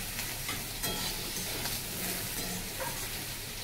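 Eggplant pieces frying with onions in oil in a pan sizzle steadily and close up, a dense continuous crackle with faint stirring scrapes and no voices.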